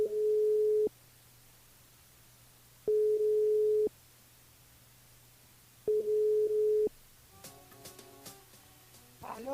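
Telephone line tone heard while a radio host dials a listener: three steady beeping tone bursts, each about a second long, spaced a few seconds apart, followed by fainter clicks and line noise. No one speaks.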